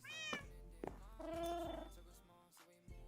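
An orange cat meows close by, several drawn-out, rising and falling cries in a row with brief pauses between them, over a low background hum.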